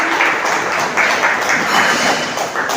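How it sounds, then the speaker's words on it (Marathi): Applause from people gathered at a birthday remembrance event in an old-age home, dense clapping in fluctuating bursts, moderately loud and close, without speech. "सर्वप्रथम आपण त्यांचं जोरदार टाळ्या वाजून स्वागत करूया"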